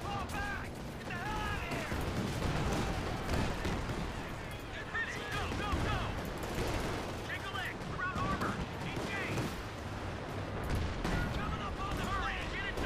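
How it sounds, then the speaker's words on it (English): Pak anti-tank guns firing in the Company of Heroes 2 World War II strategy game, rapid booming shots and explosions layered in a dense battle din, with someone talking over it. "There's one pack gun there, hear the pack guns, there you go."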